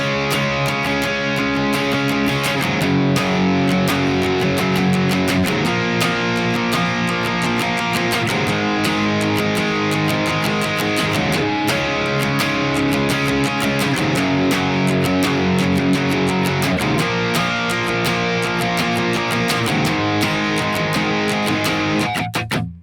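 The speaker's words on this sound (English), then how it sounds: "So in the chorus, we're just going to be using power chords" Heavy distorted electric guitar power chords from the chorus of the song, chugging loud and steady with regular chord changes, played alone up close.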